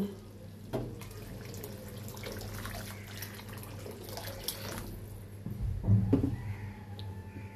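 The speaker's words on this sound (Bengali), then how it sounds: "সেটার উপর ডিপেন্ড করে আমি সেই অনুযায়ী পানি দিয়ে দেব।" Water poured into a potato curry for gravy, a soft running splash that swells louder near the end, quiet overall with no talking.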